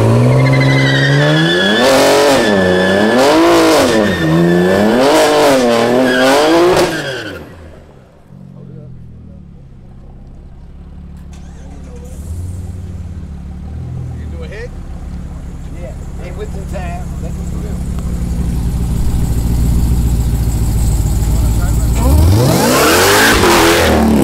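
Street drag race between a boosted Ford Mustang and an Infiniti Q50S, heard as car engines revving and accelerating. Loud talk comes first, then engine noise builds from moderate to loud over the second half.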